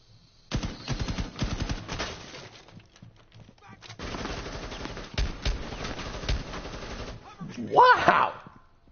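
Rapid bursts of automatic gunfire from a pistol in a video game ring out loud and close in two long volleys, with a short pause between them and someone talking over the shooting.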